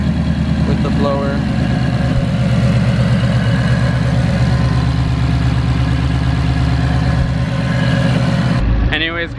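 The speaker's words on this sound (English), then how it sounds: "quick footage of the car running" Supercharged Ford Mustang GT S550 V8 runs steadily at a loud, even idle-like drone with a throbbing pulse, cutting off abruptly near the end.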